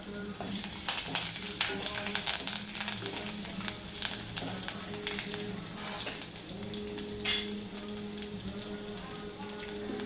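Garlic tempering frying in hot oil for a capsicum dish, a steady close sizzle with a brief loud crackle burst around the middle and faint stirring throughout.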